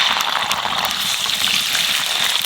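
Nigella seeds, asafoetida and ginger paste sizzling in hot oil, a loud, dense, steady crackling hiss heard alone.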